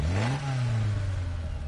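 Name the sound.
chuggy car engine revving in Gran Turismo Sport video game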